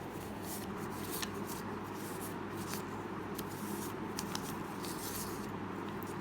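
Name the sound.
shuffling a deck of cards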